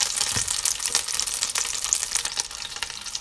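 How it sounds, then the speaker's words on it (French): Meat browns in a hot frying pan with a loud, steady sizzle and crackle, broken by brief scraping stirs, close up and with no talking. "Je vais faire dorer ma viande"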